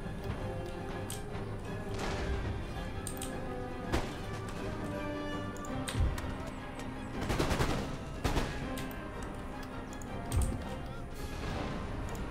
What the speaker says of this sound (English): Let these guys get their volleys off.